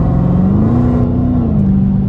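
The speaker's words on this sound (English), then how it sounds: "I almost hear like the exhaust more than I hear the supercharger whine" A 707 hp supercharged V8 Dodge Challenger Hellcat Widebody roars steadily under load, its deep exhaust note rising slightly in pitch as it accelerates, with supercharger whine, close and loud with no talking.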